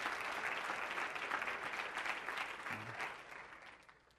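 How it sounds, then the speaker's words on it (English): An audience in a church applauds at a sermon, a dense sustained clapping that fills the room and slowly fades toward the end. "we ought to applaud you"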